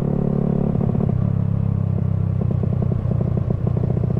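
Supra Daytona 190 motorcycle with a high-compression engine, running on Shell V-Power, idles close by in a steady, loud, throbbing chug with rapid regular pulses and no speech.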